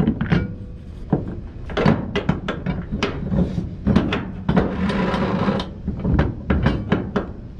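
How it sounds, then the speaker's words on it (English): Steel-on-steel ratchet binders tightening straps on a flatbed load, producing repeated close metallic clanks and ratcheting clicks in irregular bursts, with knocks and rattles between strokes. "Only thing I'm doing right now is tightening up these damn straps."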